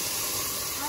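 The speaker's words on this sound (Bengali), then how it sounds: "এবার ডালটা দিয়ে দেবো" Lentils (dal) tipped into a hot pan in a home kitchen, giving a steady, loud, close broadband hiss and sizzle that fills the whole short moment.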